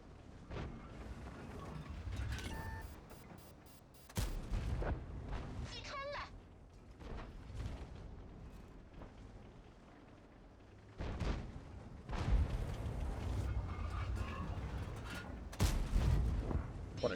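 Heavy cannon shots from a T-34-3 tank in a video game, several booming blasts spaced seconds apart amid rumbling engine and battle noise, with bits of a voice talking in between.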